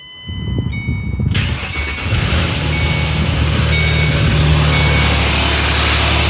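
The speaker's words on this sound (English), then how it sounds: "I'm going to start the engine up here." A Ford Mustang 4.0 V6 with a worn timing chain cassette guide: a few soft warning chimes, then the starter cranks and the engine catches, settling into a steady, close idle with no talk.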